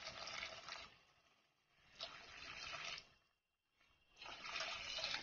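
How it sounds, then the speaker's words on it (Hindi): Water pours in steady bursts, splashing and gurgling into a cooking pot of wild mushroom curry, with a brief pause between pours before the flow resumes. "तो अब इसमें डाल देते हैं पानी।"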